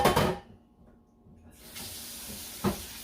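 A kitchen tap runs water to rinse out a bowl, with a burst of broadband splashing at first, a brief lull, then a steady rushing flow and one sharper splash near the end.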